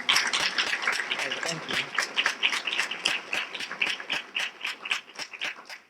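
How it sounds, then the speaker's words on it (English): Sustained audience applause at a poetry festival event, dense overlapping clapping that holds steady throughout with a pulsing texture, close and moderately loud. "I actually want to start out by giving some applause to Brother Dr. Jeffrey Mack, who has organized this"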